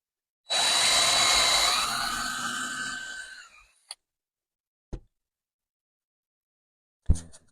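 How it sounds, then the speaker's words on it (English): A small drill bores little holes in a wooden pumpkin patch sign: one close, loud whirring burst of about three seconds that winds down, followed by a few sharp clicks and knocks. "I'm going to eyeball this and just make little holes."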